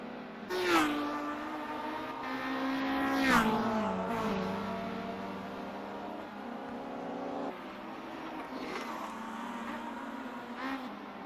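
Classic BTCC touring cars race in a sim racing game at Knockhill or Oulton Park, engines screaming through gear changes with rising and falling pitch, several cars close together, loud and continuous.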